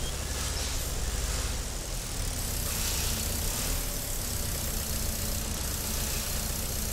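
Tractor engine in Farming Simulator 22, an Indian-mod 4x4 tractor with a heavy front loader stuck while pulling a trolley, rumbling steadily at idle with a dense low drone and broad noise throughout, loud and close.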